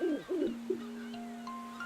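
An owl in the Link's Awakening video game gives a few short warbling hoots, followed by sustained electronic tones from the game's soundtrack, moderately quiet.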